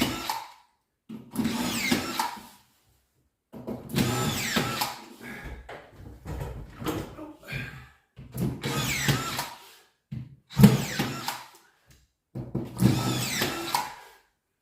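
Power drill driving screws, several separate whirring bursts of a couple of seconds each with quiet gaps between, loud and close, no talking.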